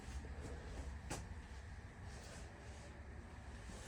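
A dresser drawer in a 2023 Salem Villa travel trailer gives one brief, faint knock as it slides shut, set against a low steady background hum.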